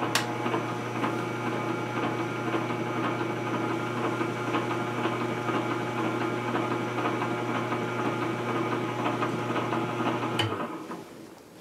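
A stainless-steel-geared juicer runs with a steady mechanical hum and fine rattling vibration for about ten seconds, then shuts off and winds down to quiet.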